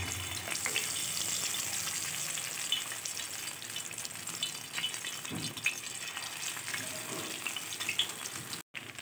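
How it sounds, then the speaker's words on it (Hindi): Marinated fish pieces fry in hot oil, giving a loud, dense, continuous crackling sizzle close by, with a few soft bumps as pieces shift, ending in a brief cut. "ऑयल गरम हो चुका है, बल्कि अब हम इसमें पीसों को, ये जो हमने मैरिनेट की थी फ़िश, एक एक करके इसमें डाल देंगे"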